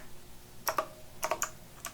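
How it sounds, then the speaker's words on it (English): A few quiet keystrokes clatter on a computer keyboard, a short cluster followed by several quick taps, close and soft with no talking. "we're going to type in the variable name"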